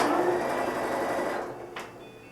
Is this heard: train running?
no